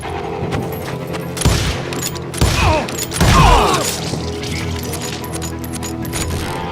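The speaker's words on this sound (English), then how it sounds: "They're shooting in the street!" Gunfire in a street shootout in the Western video game Call of Juarez: several sharp shots and bursts ring out over a busy game soundscape, with mechanical clatter and thuds between them.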